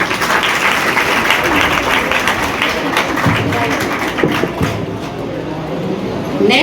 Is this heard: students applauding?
yes